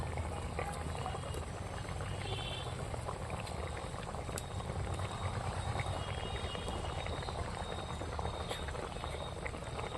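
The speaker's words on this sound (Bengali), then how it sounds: "ঝালটা আমার ফুটছে এবার আমি একটা একটা করে ঝালের মধ্যে তুলে দিচ্ছি" Egg and pea curry gravy boils in a pan, giving a steady, close, continuous bubbling and simmering that runs evenly throughout with no talk.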